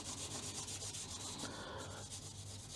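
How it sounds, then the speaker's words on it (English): Rag wiping WD-40 over rusty metal parts of a Commodore CDTV computer during restoration, a steady close rubbing and scrubbing that runs without pause for about three seconds, with no voices. "I use a little bit of WD-40 just to wipe over the parts that have some rust."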